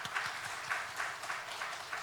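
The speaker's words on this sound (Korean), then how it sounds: "우리 박수하겠습니다." A church congregation gives faint, distant applause during a Sunday worship service, a soft steady patter of clapping with a few louder peaks.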